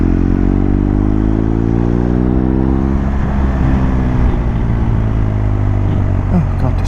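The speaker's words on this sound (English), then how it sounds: "Oh God, this bike is so easy to ride" A BMW R 1250 GS TE motorcycle ridden in third gear on twisty roads gives a steady, loud engine drone with shifting low harmonics, close and continuous, with a voice talking over it.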